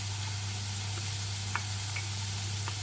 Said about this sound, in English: we're then going to add in the onion, carrot and celery